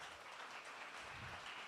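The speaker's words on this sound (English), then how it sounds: "Round of applause." Brief applause from an audience at a startup pitch event, a faint, steady wash of clapping lasting under two seconds.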